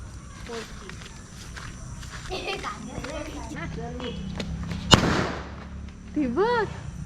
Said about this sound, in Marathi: आमची दिवाळी सेलिब्रेट आजपासून सुरुवात. बॉम्ब फोडायची.